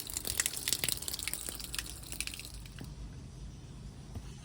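Water blasts from a leaking garden tap across a garden, a loud irregular gush with splashy bursts at first that settles into a steadier, softer rush of spray.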